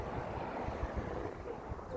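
Shoreline water washes in a soft, continuous rush mixed with wind noise on the microphone, faint and steady with no voices present.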